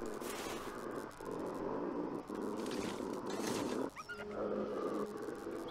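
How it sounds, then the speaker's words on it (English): A wolf growls outside in the snowy survival game The Long Dark, a low, steady, rumbling snarl sustained over several seconds. It is moderately distant and heard alone against the wind, with a brief break partway through. "There's a wolf out there. Doesn't sound very friendly."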